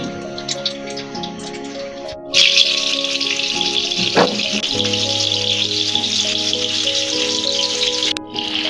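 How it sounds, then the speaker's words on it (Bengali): Chopped onions hit hot oil in a kadai on a gas stove and set off a sudden loud, steady sizzle that keeps crackling to the end, with a faint tonal hum underneath. "তেলটা গরম হয়ে গেছে গা, মানে আমি এটার মধ্যে কাইটা রাখা পেঁয়াজ গুলা দিতেছি।"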